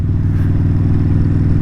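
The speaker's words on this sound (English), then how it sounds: "and a loud Vance and Hines exhaust system" A Kawasaki VN 1600 Mean Streak cruiser with a loud Vance and Hines exhaust idles close by, its big engine throbbing in a steady, deep, even pulse with no voices.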